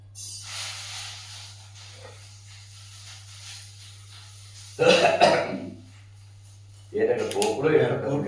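Two coughing bursts come from the background of a talk on the Adhyatma Ramayana, each about a second long and moderately loud, over a low steady hum and faint hiss.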